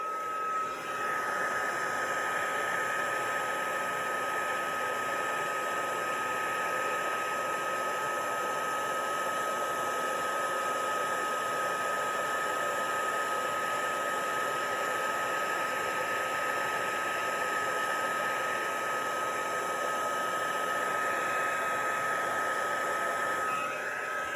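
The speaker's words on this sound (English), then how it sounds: "I'm going to put my heat tool as far away from the camera as I can" A heat tool blows continuously while heat embossing a Christmas card, a steady whooshing fan hum with a thin high whine, held at an even level throughout and slightly distant.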